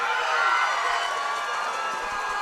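A crowd at a Black Cat Cage Fights amateur MMA event cheers loudly and steadily as a fighter enters the octagon, a sustained roar of voices and shouting with no break.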